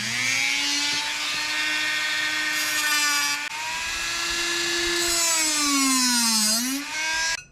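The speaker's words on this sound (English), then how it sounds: "You're just going to grab yourself your grinder" A grinder cuts through a metal golf shaft, a loud, sustained high whine with strong harmonics that dips and wavers in pitch as the blade bites, running steadily throughout with no talking.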